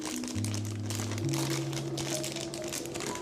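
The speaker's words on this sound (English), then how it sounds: "And just add in the whole bag." A bag of frozen peas and carrots crinkles as it is emptied into a dish, with quick papery rustles over soft background music.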